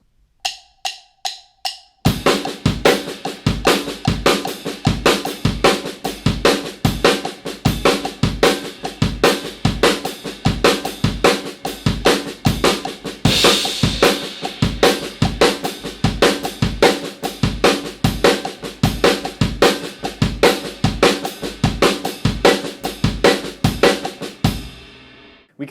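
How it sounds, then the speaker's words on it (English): A drum kit plays an odd-meter exercise, a 7 pattern on kick and snare phasing through sixteenth notes under a ride cymbal. Strong, evenly spaced hits run loud and close for about twenty-three seconds after a few soft count-in taps. "So that 7 pattern on the kick and snare kind of phases through each 16th note."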